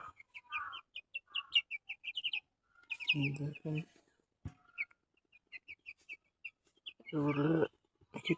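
Three young male Tiger chickens give high, rapid chirping calls in bursts, broken up by brief spells of a person talking.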